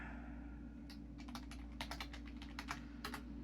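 Typing on a computer keyboard, a rapid irregular run of crisp key clicks starting faintly then clustering into quick bursts over a steady low hum, close and quiet, no talk.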